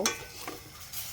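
Beef stew being stirred in a pot just after tamarind water is added, a brief scraping stir with faint simmering hiss, close and quiet, no talking.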